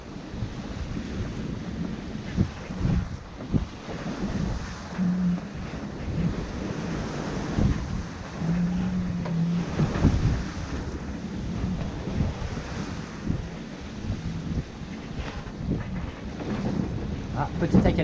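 Strong gusting wind of about 27 knots buffets the microphone while waves wash and slap continuously around a moving Dufour 375 GL sailboat sailing upwind, loud and rough throughout.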